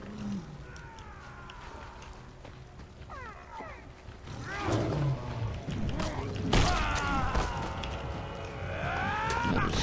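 A tiger roars and snarls in the caveman-era video game Far Cry Primal, with drawn-out growling calls rising midway and again toward the end over game ambience and thuds.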